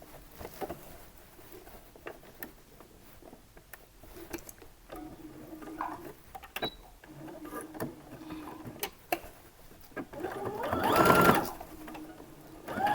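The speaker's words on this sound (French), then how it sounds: "Je couds sur le tissu que je viens de cranter ici avec la parmenture." A sewing machine stitches fabric together with a facing in a quiet home sewing setting, giving soft, fast ticking runs of stitches that start and stop. A louder burst of whirring comes near the end, and no one speaks.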